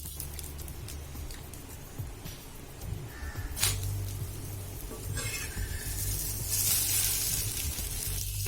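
A vegetable uthappam cooks on a hot griddle with a soft, steady sizzle and crackle that grows a little stronger toward the end, with no one speaking.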